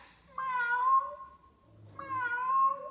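Two drawn-out human-imitated meows, each rising then falling, separated by a short quiet pause, close and clear.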